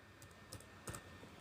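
Light typing on a computer keyboard, a few soft scattered key clicks, faint and close against a quiet background hiss.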